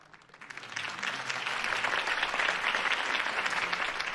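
A crowd claps after Harvey Dent's campaign speech in a Batman video game. The applause builds over the first second into a steady, full wash of many hands and holds to the end, with no voices over it.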